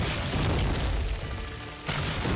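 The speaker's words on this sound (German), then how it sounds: "Friss meinen Raketenwerfer!" Rocket launcher explosion in Resident Evil: The Darkside Chronicles, a loud sustained boom with a rumbling roar that dips briefly and then swells again, with no voices over it.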